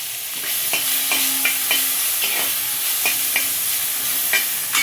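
Onions and carrots stir-fry in a hot pan for fried rice, sizzling loudly and steadily up close while a utensil scrapes and taps against the pan in a quick, irregular rhythm.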